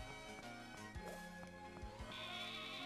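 In the video game Pokémon Shield, game sheep bleat over layered background music and clip-clop-like sounds in a short, fairly quiet passage.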